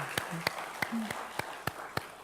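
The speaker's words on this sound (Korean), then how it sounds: "박수 한번 해주세요" A handful of sparse, separate claps from a church congregation at an early-morning service, spaced irregularly over a quiet room with faint voices in the background.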